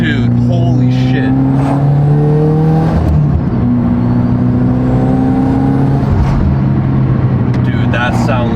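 A car engine revs and accelerates loudly and close by, with rising and falling harmonic tones sustained throughout, while excited voices talk over it.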